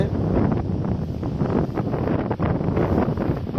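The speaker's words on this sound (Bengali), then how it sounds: "টেকেরহাটে এখন ঝোড়ো আবহাওয়া বইছে" Stormy wind from Cyclone Remal roars and buffets the microphone at Tekerhat in Rajoir, Madaripur, a loud, dense rush that never lets up.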